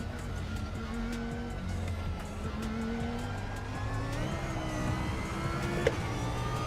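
Racing cars in the RaceRoom video game, a Porsche super tourer among them, drone continuously with steady engine tones that rise in pitch, loud and close with a brief knock near the end.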